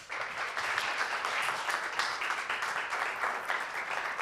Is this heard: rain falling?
no